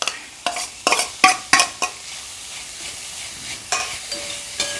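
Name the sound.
stirring crushed coconut into frying pumpkin leaf thoran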